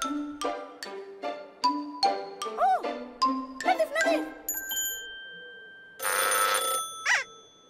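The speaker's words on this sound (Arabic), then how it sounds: "هاتف الطوارئ." An emergency telephone in an animated children's show sounds with a run of bright chiming tones, then a loud electronic ringing burst near the end, over a voice that speaks in between.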